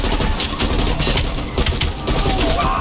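Dense automatic gunfire fills a Call of Duty: Black Ops Cold War firefight during a vehicle chase, loud continuous crackling volleys layered with game noise, with no talk.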